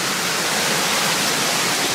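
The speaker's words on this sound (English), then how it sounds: "the rain has calmed down a bit and I can hear the waterfall" A rain-fed waterfall running full on a hiking trail, a steady broadband roar that stays constant and loud with no voices.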